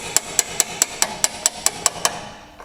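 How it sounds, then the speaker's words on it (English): Sharp metallic hammer blows strike a seized car camber bolt in a tight space, in a quick, even rhythm, about ten hits close up, then the ringing fades away. "now there's not much space to hammer, but we can make it work"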